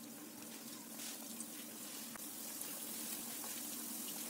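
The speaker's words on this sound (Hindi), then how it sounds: "मैं इसे पैन में इस तरह से फ्राई कर रही हूँ" Masala vada frying in medium-hot oil in a pan, giving a steady, continuous sizzle and bubbling that holds at an even level throughout with no talk.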